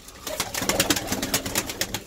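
Iraqi short-beak pigeons coo in a steady series of soft, close calls, with faint rustling and bird sounds around them.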